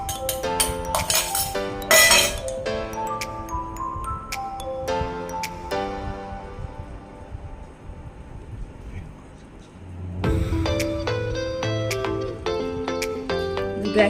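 Flour, baking soda and baking powder being mixed into an eggless mango cake batter, with repeated bright clinks of a utensil against a bowl in bursts, pausing briefly before resuming.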